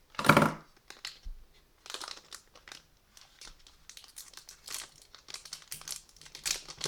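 A Pokémon booster pack tears open with a loud initial rip, followed by soft crinkling and rustling of the foil wrapper in scattered bursts, close and alone.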